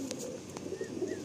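A female Tiger line pigeon gives a quiet, low cooing murmur close by, with faint short chirps over soft background noise.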